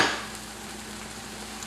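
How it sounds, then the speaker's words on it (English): Rendang paste frying in a pan over medium-high heat, a steady close sizzle with a brief louder burst at the start and no talk. "We're taking that rendang paste and we're going to heat it up. We're going to get it to cook up."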